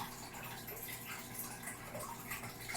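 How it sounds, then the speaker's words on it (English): Water flows from a hose into an aquarium tank during a water change, a continuous soft splashing and rushing that is steady and fairly quiet, with no one talking. "It's just a hose in the water"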